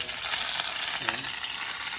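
Curry leaves and mustard seeds splutter in hot oil, a dense close crackling sizzle with sharp pops throughout.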